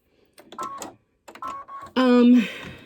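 Embroidery machine stitching small mouse whiskers in black thread, brief bursts of rapid mechanical whirring and clicking in short runs, with a louder, buzzing stretch near the end.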